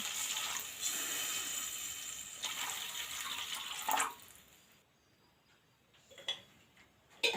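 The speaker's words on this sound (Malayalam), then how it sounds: "നമുക്ക് ആവശ്യമായിട്ടുള്ള വെള്ളം ചേർത്ത് കൊടുക്കാം" Water is poured into a pan of sautéed onion, green chilli and ginger for upma, making a steady splashing rush for about four seconds before it stops, followed by a few quiet clinks.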